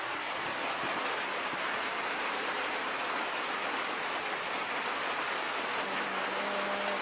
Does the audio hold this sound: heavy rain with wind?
yes